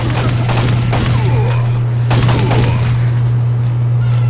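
Gunfire in the PS1 shooting game Time Crisis, a few sharp bursts of shots spaced about a second apart over a constant low electronic hum, with no talk.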